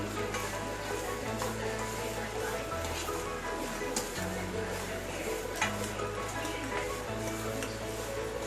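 Roasted fresh coconut being stirred in a pan with cashews, almonds and charoli, a soft steady scraping and faint sizzle under a constant background hum, with no talking.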